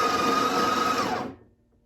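A Breville Barista Express grinds coffee beans into a dosing funnel with a loud, close, continuous whir that cuts off sharply and leaves a brief quiet tail.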